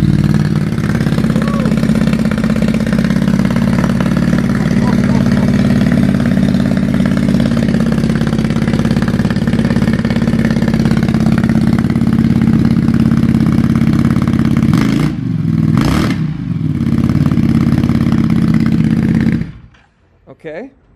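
A Ducati XDiavel motorcycle fitted with a Termignoni exhaust, baffles installed, idles with a steady, loud, deep rumble that holds for most of the stretch, with a brief blip midway before it cuts off near the end.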